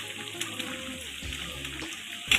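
Water poured into a pan of cooking chicken curry with potatoes, a steady rushing pour with faint kitchen clatter and a brief louder splash near the end.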